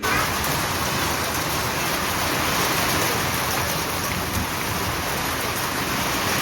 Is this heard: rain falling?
yes